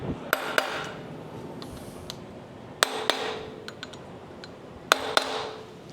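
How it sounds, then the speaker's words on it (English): Sharp metallic taps of a hammer striking a 10 mm socket on engine bolts during removal of a 2020 Subaru WRX STI engine, a couple of quick taps in three separate pairs, close and clear over faint background noise. "take a hammer and just give it a couple taps on each of them."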